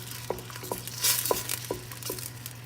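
Tomatoes cooking in oil in a pan for chana bateta, a soft sizzle under a low steady hum, broken by several distinct scraping stirs spaced about half a second apart, close by.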